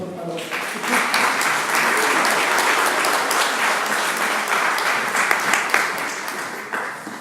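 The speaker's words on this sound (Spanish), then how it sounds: "les doy un fuerte aplauso para él, por favor" A forum audience on transparency and combating corruption applauds a speaker, a loud, dense, steady wash of clapping that swells quickly and holds before tapering near the end, with faint voices mixed in.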